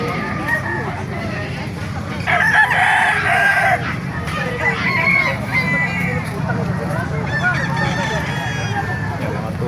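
Roosters crow repeatedly and chickens cluck amid a noisy outdoor poultry market in Calumpit, Bulacan, with a loud crow standing out near the middle over constant crowd murmur and talk.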